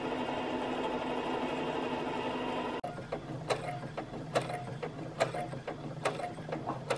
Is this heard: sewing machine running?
yes